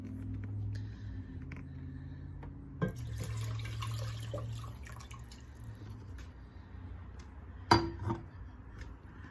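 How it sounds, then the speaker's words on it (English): Homemade chicken stock poured from a container into a hot pan to deglaze it, a steady liquid splash and sizzle with a clink of the vessel near the end, heard close up with no talking. "So this is a chicken stock that I made. So I'm just gonna put that in the pan."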